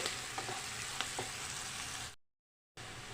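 Lentils frying in a pan until light golden for a raw-lentil tomato curry, a soft continuous sizzle with a few faint stirring scrapes, then a brief gap of silence before the frying resumes.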